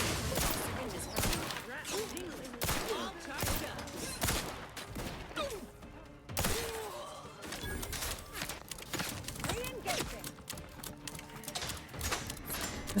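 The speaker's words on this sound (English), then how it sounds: "Is there someone behind us shooting at us?" Gunfire in the video game The Outer Worlds 2, repeated rapid shots and bursts throughout a combat stretch, loud and closely spaced, with voices talking over the fighting.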